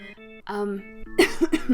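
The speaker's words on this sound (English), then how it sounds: "I had to cough in the end" A single cough bursts out near the end, following a stretch of harmonic tones; close and fairly loud.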